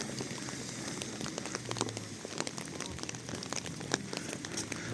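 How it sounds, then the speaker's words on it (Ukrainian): Autumn rain in Truskavets falls steadily onto surfaces, a dense continuous patter with scattered sharper drops, close and fairly loud, with no talking over it. "А, тут додавалось дощику."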